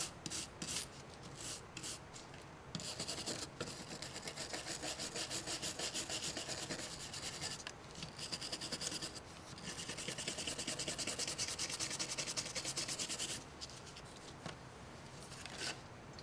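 A brush scrubs soldered joints on a circuit board in quiet, close, rasping strokes. The strokes run in repeated bursts with brief pauses between them.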